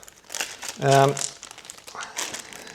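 Plastic bags holding ten-sided dice for the Wild West Exodus starter set crinkle close by in bursts, with a voice speaking over and between the rustles.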